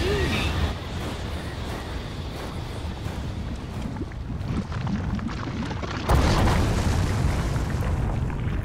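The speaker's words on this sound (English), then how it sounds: "Explosion." A rumbling explosion in the video game Super Mario Odyssey, set in a lava world, is heard as a dense boom with a sharper burst partway through, under faint talk.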